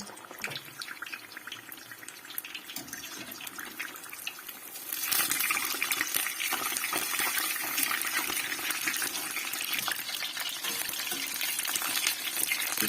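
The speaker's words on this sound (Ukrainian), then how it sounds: "В розігріту олійку закладаю чебуреки і обжарую до золотистого кольору." Chebureki sizzle in heated sunflower oil, a steady close crackle and hiss that grows noticeably louder and denser about midway through as the pastries go into the pan, with no talking.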